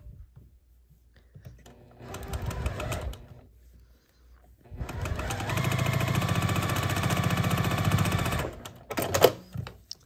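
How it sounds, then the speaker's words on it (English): A sewing machine stitches quilt block pieces, first in a short run, then in a longer steady whirring burst of rapid stitching, close and moderately loud. "So let me match that up and sew it."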